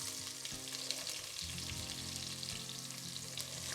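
Sliced onions and a tablespoon of cumin seeds frying in hot oil for chicken tikka masala give a steady, close sizzle with faint stirring and no talk.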